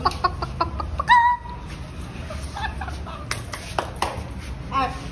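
Domestic hens clucking in a yard, a series of short, bright calls scattered through the clip, with a louder burst near the start and another toward the end, over steady background noise.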